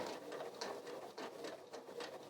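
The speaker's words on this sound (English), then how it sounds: "as the machine comes up to it, the presser foot kind of tilts" A sewing machine stitches steadily over a bulky fabric seam, its fast, even needle patter faint and continuous throughout.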